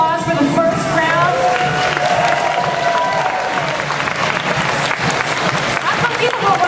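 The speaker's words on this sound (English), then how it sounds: "Can we get a round of applause for the first round?" An audience at a fashion gala applauds and cheers loudly, with whoops and shouts over dense clapping, and voices are audible through the crowd noise.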